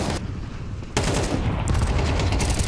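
An AK rifle fires in Counter-Strike during an IEM Cologne 2025 match broadcast: a loud, sharp burst of rapid shots, a brief lull, then sustained gunfire over game noise.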